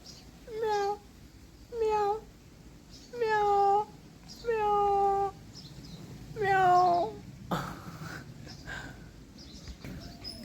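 A cat meows five times in a steady series, each call clear and drawn out, followed by a quieter stretch with faint movement noises.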